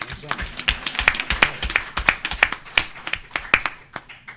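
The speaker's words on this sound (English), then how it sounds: "I'm going to clap on that one" A single person claps sharp, distinct handclaps in an uneven sequence at a food policy event, close and dry, with a voice speaking around the claps.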